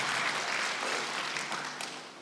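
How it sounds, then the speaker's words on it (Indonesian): An audience applauds for a model at a church sermon, steady clapping throughout that slowly fades toward the end. "Tepuk tangan dong buat modelnya ya."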